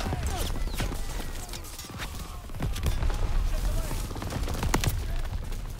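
Rapid overlapping gunfire on the D-Day beach in the Call of Duty WWII campaign, dense sharp cracks and bursts rattling continuously for several seconds with a low rumbling bed underneath and a voice partly audible.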